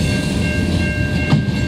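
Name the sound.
CN freight train passing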